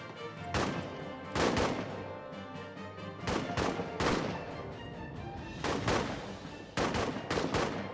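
Soldiers fire rifles in a WW1 trench warfare video game, sharp shots coming in irregular clustered volleys, several cracks close together then pauses, loud and near, with no talk over them.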